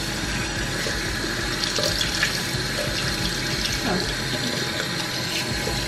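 A faucet runs steadily into a sink while a face mask is rinsed off, giving a constant splashing hiss of water with small shifts as the flow hits the mask.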